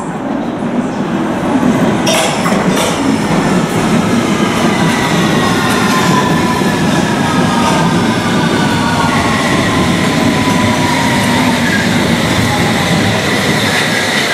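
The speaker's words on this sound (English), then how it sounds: "the train now approaching is to Upminster" A London Underground District line train rumbles into the station, loud and close, with rising metallic wheel squeals and steady rolling noise throughout.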